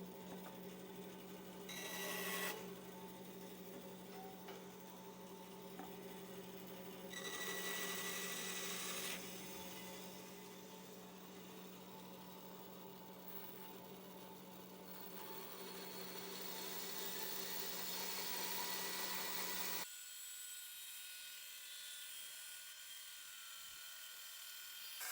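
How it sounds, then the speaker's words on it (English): A bandsaw hums steadily in a woodworking shop while cutting waste from a wooden workpiece, with the blade note rising in short bursts as it bites into the wood, then the motor shuts off and the sound drops to a quiet room. "at the bandsaw. And now we're going to cut this waste out."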